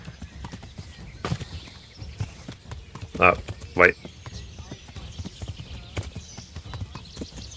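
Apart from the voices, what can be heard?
horse hooves while riding in Kingdom Come: Deliverance, video game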